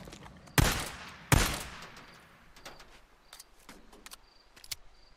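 Gunfire aimed at a dog in the video game Days Gone: two loud, close shots in quick succession, each with a decaying tail, followed by fainter clicks and small impacts.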